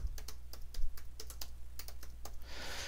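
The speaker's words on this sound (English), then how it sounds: "So I'm going to type in my email address." Close-up keys clack in quick, uneven bursts as an email address is typed on a computer keyboard, with a brief hiss of noise near the end and no voices.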